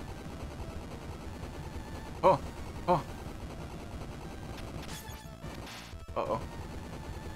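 Cannon fire from the retro action game Bloodstained: Curse of the Moon, a few sharp blasts around the middle and end, mixed under game sounds while players react with exclamations.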